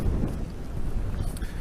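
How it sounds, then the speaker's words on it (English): Gusty wind buffeting the microphone in a rough, low rumble on the damaged Southsea sea wall after Storm Frank, continuous and close throughout. "Well, it's windy and it's a bit cold."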